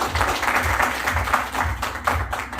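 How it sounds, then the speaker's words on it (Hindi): Audience clapping at an outdoor village gathering on natural farming in Sevapuri, Varanasi, a short burst of applause in uneven pulses over a low background rumble. "गुलजार जी भाई साहब, जो आप ही के बीच के हैं, इनके लिए जोरदार ताली बजाइए।"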